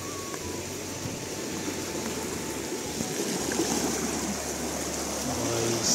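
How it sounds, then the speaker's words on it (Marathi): Swollen Krishna River water churning near a bridge in flood, heard as a continuous broad rushing roar, steady and fairly close, with no talk over it. "काय पाणी उकळ्या मारा लागले"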